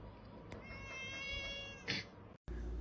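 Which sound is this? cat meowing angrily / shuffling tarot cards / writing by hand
cat meowing angrily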